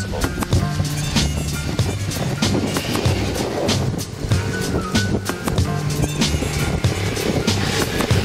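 Honda CB500F motorcycle ridden on a riding-school track, a low engine throb with gear-like pitch steps, under constant wind roar and clicking noise, no talk.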